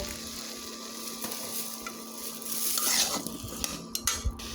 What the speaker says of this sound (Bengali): কুমড়ো বড়িগুলো এত কষিয়ে নেব মশলার ভিতরে টমেটো আলু কাঁচামরিচ দিয়ে কষিয়ে নেব